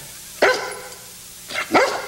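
A pet dog gives two quick, loud barks in a chemistry lesson scene, the second a doubled yelp, sounding close and clear with no talk over it.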